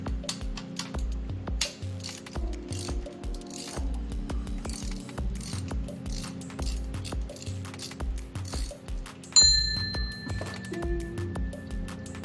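Hand ratchet on long extensions working 15 mm bolts behind the front cross member of a Magnum Hemi engine, loud rapid clicking in repeated bursts with brief pauses and a metallic clink.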